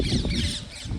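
A parrot in a rural Gujarati village lets out harsh, raspy squawks close by, short rough bursts over outdoor background noise with no talking.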